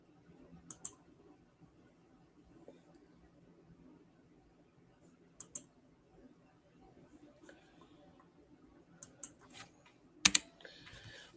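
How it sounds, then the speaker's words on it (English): Sparse clicks of typing on a sticky computer keyboard, with isolated keystrokes and small clusters spread out over quiet room tone, including a louder burst of fast clicks near the end. "My keyboard sticks and I type so fast"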